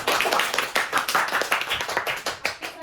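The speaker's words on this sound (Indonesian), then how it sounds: "boleh beri tepuk tangan" A classroom of students claps for a student group after its presentation, a dense, fast patter of many hands throughout, close and fairly loud with no talk over it.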